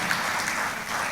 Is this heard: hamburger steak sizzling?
no